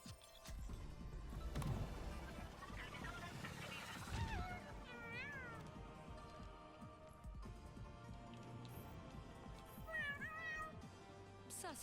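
A cat meows repeatedly in an Overwatch game match, several drawn-out rising and falling cries spread through the clip over a busy low background.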